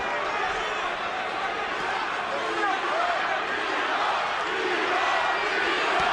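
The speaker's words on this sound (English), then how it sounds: "Crowd chanting B-Hop." A boxing arena crowd at the 2014 Hopkins vs. Kovalev fight roars and chants in a dense, continuous wall of voices, with a commentator speaking over it.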